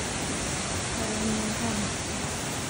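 Yoro Falls waterfall in Mie, Japan, a dense steady roar of falling water filling the whole clip, with a faint voice briefly under it.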